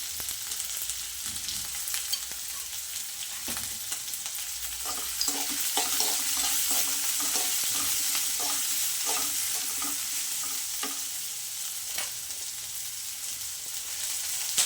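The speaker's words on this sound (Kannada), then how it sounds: "ಇವೆಲ್ಲ ಆಯಿಲಲ್ಲಿ ಚೆನ್ನಾಗಿ ಫ್ರೈ ಆಗಬೇಕು ಈಗ ಚಕ್ಕೆ ಎಲ್ಲ ಲವಂಗ ಗಟ್ಟಿ ಗೋಡಂಬಿ ಸೇರಿಸ್ಕೊತಾ ಇದ್ದೀನಿ" Cinnamon, cloves and cashews fry steadily in hot oil, a continuous close sizzle with faint crackles and occasional stirring scrapes throughout.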